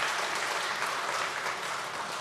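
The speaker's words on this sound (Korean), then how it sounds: "우리 조연상 목사님 인사하실 때 여러분 축하와 또 환영의 박수를 해주시면 좋겠습니다" A church congregation applauds to welcome a new pastor at a Sunday service, a brief, steady and even wash of many hands clapping, moderately loud and slightly roomy.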